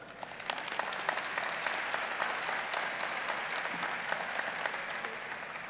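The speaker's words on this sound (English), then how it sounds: "A round of applause to our faculty and President Ellis" Sustained applause from a large crowd at a university commencement ceremony, a dense, even roar of clapping that holds steady at moderate loudness throughout.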